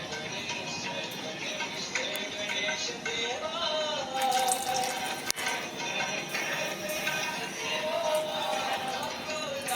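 Water poured into a pan for godhumai rava upma, a steady close splashing and trickling stream running throughout with kitchen clatter and a sharp knock midway, no talking over it.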